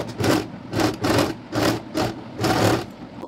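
A sewing machine stitches a French seam in fabric, running in six short bursts of rapid mechanical clatter separated by brief pauses, close and fairly loud.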